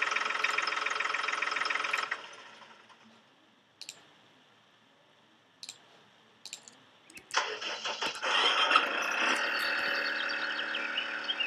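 Engine noise from a tractor in the farming video game Farming Simulator 2013: a loud droning rumble, then a quieter stretch broken by a few sharp clicks, then the engine surges back to a steady loud run.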